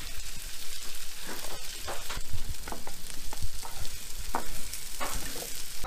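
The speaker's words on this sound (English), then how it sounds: "We got our potatoes cooking up real nice. Now we got some onions in here." Potatoes and onions frying in a pan, a steady close sizzle and crackle with soft scraping and stirring throughout.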